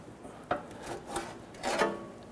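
Skid plate panel sliding backward out from under a 2006-2010 Hummer H3 with the 3.7L engine, giving a few short metallic scraping rasps in bursts, close by with no talk.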